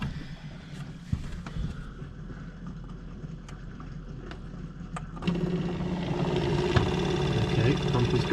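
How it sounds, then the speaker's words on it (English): A van's plumbing water pump switches on partway through, adding a steady mechanical hum and whir over a quieter background with scattered clicks and knocks; a person talks at points. "Okay, pump is going."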